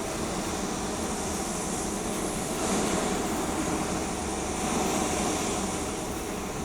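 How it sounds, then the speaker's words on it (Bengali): A Rafale fighter jet takes off from Ambala air base with a loud, sustained engine roar and broad rushing hiss, swelling slightly twice as the noise builds. "এবার সেই মুহূর্ত রাফাল উড়ান নেবে"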